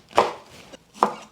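Two crisp knife chops cut through cabbage on a board for coleslaw, each a sharp close thud with a faint crunch, spaced under a second apart in a quiet room.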